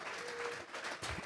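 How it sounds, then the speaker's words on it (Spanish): Church congregation applauding together, a steady patter of many hands clapping at a low, somewhat distant level with faint murmuring underneath. "Vamos a regalarle ofrenda de palmas al Dios de la gloria."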